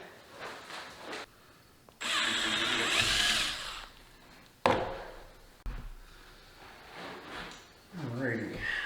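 Power drill boring holes with an 11/64 drill bit for motorcycle accessory wiring on a 2022 KLR 650, heard in two short whirring bursts nearby with clicks and bumps between, as someone talks.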